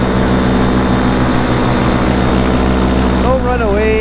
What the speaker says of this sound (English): Listen to the hum of my engine, coyote. It's soothing.